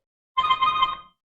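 An inbound call sets a phone ringing in the background, a single short electronic ring burst of steady tones that starts, holds briefly and fades, heard alone without speech.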